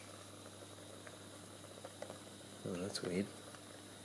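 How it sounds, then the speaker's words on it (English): Inside a homemade graphite laminate cell, bubbles cook and steam in a faint, continuous hiss and simmer beneath a steady electrical hum, with a brief spoken remark partway through. "It sounds like I can hear bubbles cooking in there."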